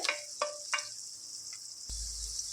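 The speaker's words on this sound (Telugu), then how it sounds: "ఒక త్రీ ఆనియన్స్ ఒక టెన్ మిర్చి వేసుకున్నాను వీటిని లైట్ గోల్డెన్ బ్రౌన్ కలర్ వచ్చే వరకు ఫ్రై చేసుకోవాలి" Sliced onions and green chillies frying in hot oil for a mutton curry: a continuous bright sizzle, punctuated early by a few sharp stirring knocks, with a low rumble joining near the end.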